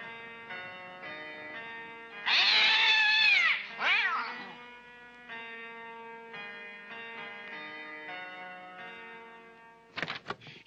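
Several cats meow and caterwaul over a steady tonal backdrop, with a loud drawn-out yowl in the middle followed by shorter cries and a brief burst near the end.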